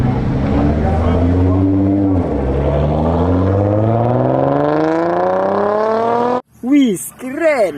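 A muddy toy race car's engine sound revs in long rising, wavering sweeps for several seconds, loud and close, then breaks off into a couple of short, warbling siren-like whoops.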